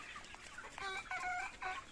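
Golden Sonali chickens on a poultry farm of about 1200 birds, clucking in a busy overlapping flock, several calls rising together midway and again near the end, with no talk.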